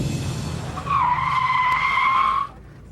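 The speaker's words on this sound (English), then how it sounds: "At the white line, I'm finally allowed to hit the brakes." A car brakes hard at a white line during a driving challenge, its tires letting out a loud, steady skid squeal for about a second and a half before it cuts off abruptly, with the engine's low rumble beneath.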